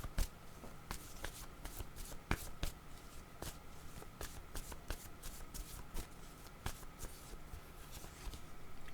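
Tarot cards being shuffled by hand in a quiet room, a steady run of soft crisp riffles and slaps close up with no voice over them.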